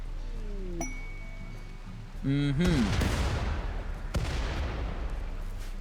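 Artillery shells strike in the colony-building game Rimworld, landing as two broadband blasts about a second and a half apart, moderately loud amid other game sounds and a brief tonal voice-like sweep.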